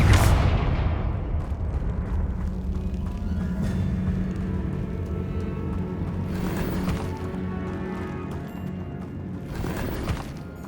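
Spell explosions in the Hogwarts Legacy video game, a loud booming blast that fades out, followed by rumbling and more distant bursts.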